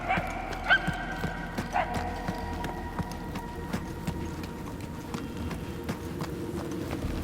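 Barking from a dog in the Guardians of the Galaxy video game, several short yips and barks scattered over a busy game soundscape with footsteps, tones and ambient hum, heard at moderate distance.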